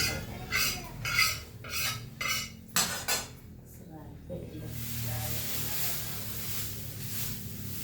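Vegetables are stirred in a kadhai with a metal utensil, producing a burst of clattering scrapes over the first few seconds before settling into a softer, continuous hiss of cooking.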